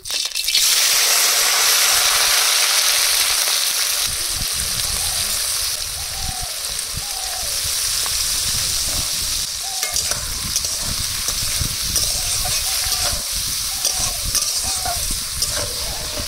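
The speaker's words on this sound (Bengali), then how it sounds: "তেল গরম হয়ে গেছে, এবার মাছগুলো ভেজে নেব।" Fish fry in hot oil in a village kitchen, with a loud, continuous close sizzle and crackle throughout and occasional small pops and taps from the pan.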